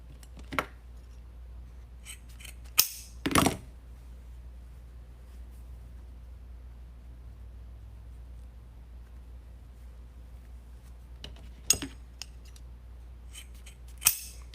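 Scissors snip through deco mesh for a Valentine wreath, a few sharp isolated cuts spaced apart against a quiet room, close and crisp.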